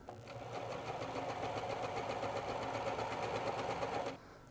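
A sewing machine runs steadily for about four seconds, stitching a narrow hem with a hemmer foot, then stops abruptly. Its close, even mechanical whir carries no talk over it.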